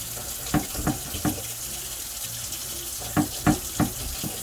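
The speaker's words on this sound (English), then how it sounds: "I'm gonna just keep the hot water going" Hot water running from a kitchen tap during pot roast preparation, a steady broadband rush with a few short splashing knocks, heard alone at moderate level.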